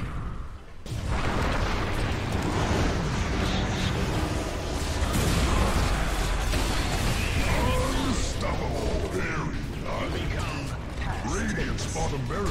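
Barracks collapsing in Dota 2, a loud, sustained crash and rumble of smashing debris with heavy booms and mechanical clatter amid busy game effects, under a voice speaking.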